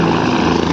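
A helicopter arrives at a helipad as a crowd gathers at Bageshwar Dham; a steady, loud, close rotor and engine roar fills the whole short moment with no voices.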